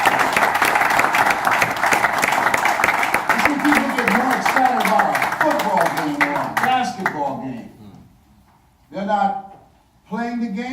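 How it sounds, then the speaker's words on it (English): Congregation in a church applauding loudly at a sermon, with cheering voices mixed into the clapping; the applause fades out and a voice then speaks in short bursts near the end. "you should be applauding that."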